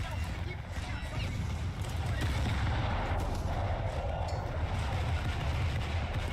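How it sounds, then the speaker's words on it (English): Warship main guns fire in the War Thunder naval combat game, heavy rumbling gunfire and low booms rolling beneath the engine and sea noise, with a voice talking over it. "Oh no, there goes the main guns"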